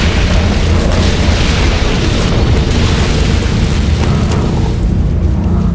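A series of underground sewer explosions in Guadalajara produce a loud, continuous roaring boom with heavy low rumble and crackling debris, sustained throughout without any voices.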